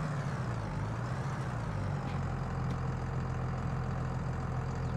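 Tractor in the Farming Simulator 22 video game, its engine holding a steady low idling rumble throughout, close and constant with a slight pitch shift early on.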